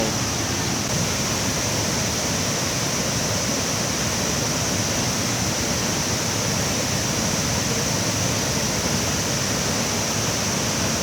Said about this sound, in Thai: น้ำตกจะอยู่ข้างหน้า